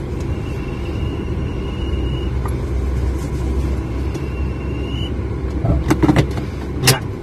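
A car rumbles steadily at low speed while parking on a city street, with a few faint clicks and knocks near the end.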